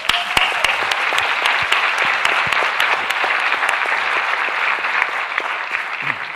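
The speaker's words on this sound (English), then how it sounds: "let's give our moderators a round of applause" An audience at a college panel event applauds the moderators with steady, dense clapping that holds at an even level throughout, with no talking over it.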